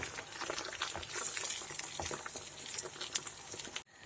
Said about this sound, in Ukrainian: Нагрілась, ми легенько висипаємо цю соус